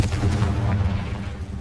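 Confringo fire spell blast in Hogwarts Legacy, a short continuous burst of crackling, rumbling explosive noise that fills the whole moment at steady loudness, with no voices over it.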